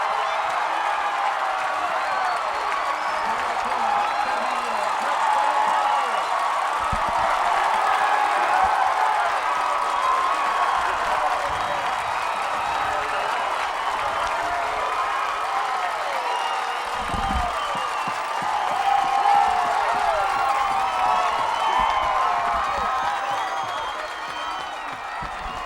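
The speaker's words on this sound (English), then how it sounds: "I wanted everyone just to listen to the crowd and get a taste of the atmosphere at Bobby Lackey" A large crowd at a 2007 Weslaco high school football game roars after a touchdown, sustained cheering and whoops with scattered claps, steady and loud across the whole stretch with no talk over it.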